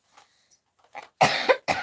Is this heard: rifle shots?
no